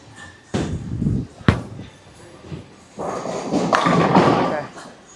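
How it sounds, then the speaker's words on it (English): A Swag Judge Pearl bowling ball, scuffed and unpolished, drops onto the lane with a heavy thud, then a sharp knock follows, and a loud rolling rumble builds into a crash at the pins, with voices in the background. "First throw with this ball, the Judge Pearl without the polish."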